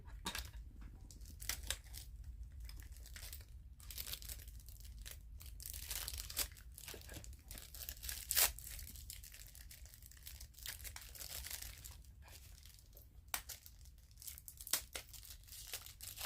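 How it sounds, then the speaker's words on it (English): Paper crackles and tears as a package is ripped open, close and fairly quiet, with irregular sharp crinkles and rustles going on continuously and no voices. "For those of you that like the sound of crackling paper, I'm doing it."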